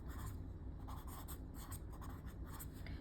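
A pen scratching on paper as numbers are written by hand, a continuous close rasping scribble with small strokes and taps over a noisy background.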